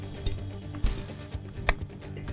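Bolts are tightened on the bonnet of a Fisher EZR natural gas pressure regulator, with a few sharp metallic ratchet clicks and taps close by against a quiet background.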